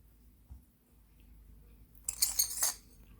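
A glass lamp shade on a retro electric lamp being repaired clinks in a quick cluster of bright glassy taps after a faint bump, close and fairly quiet, with no talking.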